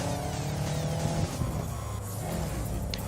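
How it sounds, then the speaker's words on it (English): Car engine in Cyberpunk 2077 holding a steady, loud drone with a low rumble as the car slides through a drift, continuous for the whole stretch with no talk over it. "It's a great drifter car."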